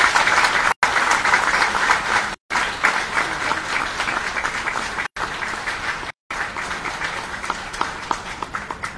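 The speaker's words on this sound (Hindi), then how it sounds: "आपके तालियों से" Sustained applause from an audience at a swearing-in ceremony for parliamentary secretaries, a dense wash of many hands clapping, broken by a few brief cuts.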